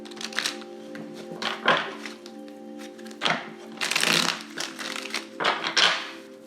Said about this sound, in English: we're going to keep on shuffling so we can get a nice clear reading